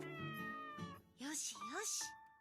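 A cat in the farming game Doraemon Story of Seasons meows twice, clear rising-falling calls following a brief stretch of soft game music.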